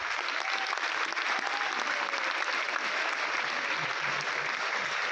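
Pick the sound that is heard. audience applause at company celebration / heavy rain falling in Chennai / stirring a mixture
audience applause at company celebration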